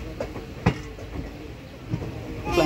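A goods train of wagons passes on a railway line near a station platform in a forest area, producing a steady rumble with a few sharp wheel clanks. Faint voices sound in the background.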